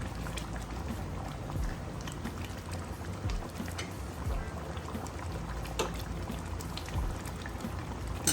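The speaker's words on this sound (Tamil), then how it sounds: "ஆனால் இது சின்ன சின்ன நண்டாக இருக்கிறதுனால அப்படியே போட்டுப்பேன்" Small whole crabs drop into a hot pan of crab gravy, setting off a steady, close sizzling and bubbling hiss that runs without pause and with no talking.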